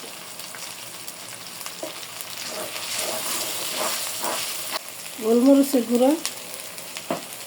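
Ginger and garlic paste frying in oil for a Bengali mutton curry, with a steady close sizzle and stirring scrapes throughout; a person speaks briefly near the end.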